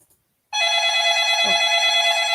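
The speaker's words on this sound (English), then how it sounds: "I can hear the phone ringing." A telephone ringing indoors, a loud, steady electronic ring that starts abruptly after a brief silence and continues without pause, with no one talking.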